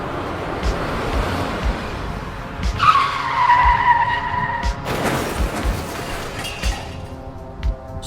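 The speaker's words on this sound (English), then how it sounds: "The running gun battle results in both cars crashing spectacularly." Cars in a chase skid with drawn-out tire squeals and a crashing impact midway, followed by scattered knocks and rumbling.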